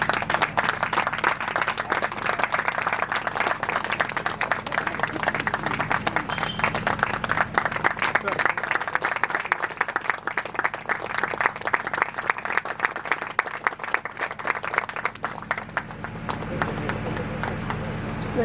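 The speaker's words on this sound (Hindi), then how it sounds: "एक बार जोरदार तालियां हो जाए" Loud, sustained applause from a large audience at an anniversary celebration of Shree Swami Samarth, dense rapid clapping that fills the whole stretch, with a voice heard over it and the clapping thinning toward the end.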